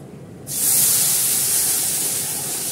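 Water is poured into red lentils fried in a hot pan, setting off a sudden loud hiss of steam that starts about half a second in and then holds steady, fading only slightly.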